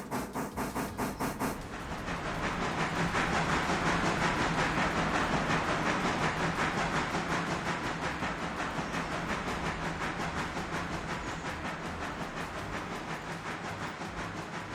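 A train in a railway video game rolls along the track with a steady rumbling hiss and rapid rhythmic clicking, preceded by a brief burst of sharp regular clacks at the start, with no talk.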